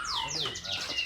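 A Yorkshire canary gives quick, high, sweeping chirps and tweets nearby, several short calls in a row against a quiet background.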